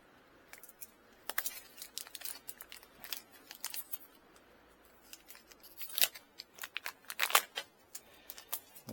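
Scissors snipping through plastic packaging near a rain barrel's tube, a series of short crisp cuts and crinkles at close range, irregular and fairly quiet, with no talking.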